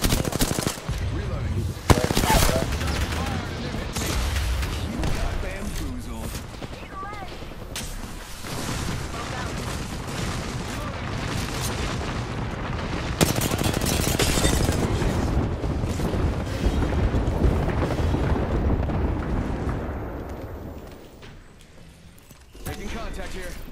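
Rapid gunfire from a shooter video game, dense bursts of shots and explosions running almost continuously at a loud, busy level, with game effects and voices underneath.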